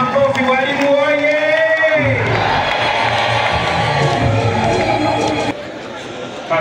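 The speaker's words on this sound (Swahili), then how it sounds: "Makofi hayo hayatoshi, migeregere tafadhali na makofi." Crowd at a Teachers' Day event in Bukombe, Tanzania, cheering with high trilling ululation and loud roar, a voice on a loudspeaker over it at first, then a broad continuous din of celebration.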